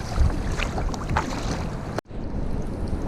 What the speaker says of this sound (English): I'm going to paddle up here anyway, see what's about